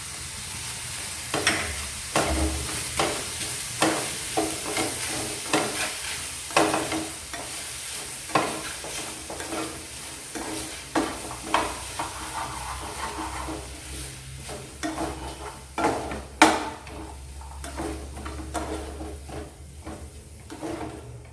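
Butter added to a hot pan for shahi paneer and stirred, producing a low sizzle beneath a long series of rhythmic spatula scrapes and knocks against the metal pan, close and clear, with no one speaking.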